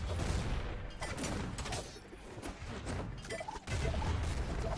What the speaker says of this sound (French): ce tir de boulet de canon, il était grandiose